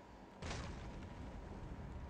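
A C4 charge detonates in Last Day on Earth with one sudden heavy boom, followed by a sustained rumbling tail.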